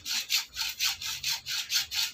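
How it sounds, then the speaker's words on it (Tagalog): A hand saw cuts with quick, even back-and-forth strokes during a bicycle repair, about eight rasping pulses in two seconds, close and clear with no talking. "Huwag mo ikaliwa yung gamit ng lagari."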